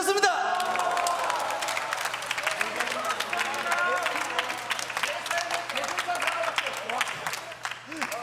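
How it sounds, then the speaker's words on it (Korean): An audience at a church youth worship performance breaks into sustained applause, a dense wash of clapping with some crowd noise, holding steady throughout. "자, 큰 박수 부탁드리겠습니다."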